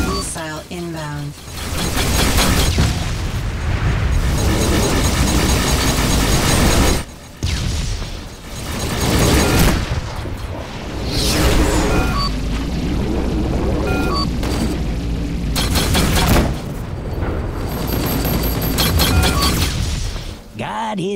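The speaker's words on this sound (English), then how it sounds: "Missile inbound." Missiles exploding in the space combat game Rebel Galaxy Outlaw, loud deep booms and crackling blasts rolling almost without pause over game music and effects, with brief gaps between heavy bursts.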